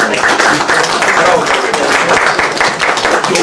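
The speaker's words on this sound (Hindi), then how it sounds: "इसके लिए तालियां मारी जाएंगी" An audience in a solicitors' office bursts into dense, steady applause, many hands clapping loudly and continuously throughout with a faint murmur of voices underneath.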